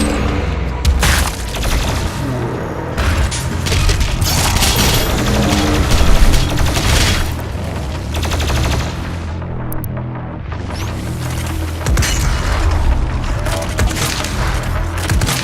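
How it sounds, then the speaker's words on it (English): Gunfire in the video game DOOM Eternal: dense, loud, continuous shooting and impacts with crunchy splintering hits and booms, rolling on with only a short dip near the middle. "Oh my god, I love that headshot sound"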